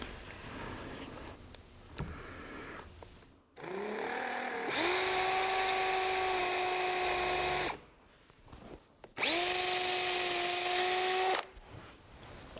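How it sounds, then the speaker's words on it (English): A power drill whines in two long bursts, its pitch rising as each run starts and holding steady while it bores into wood, with short pauses between. "we're drilling into solid oak"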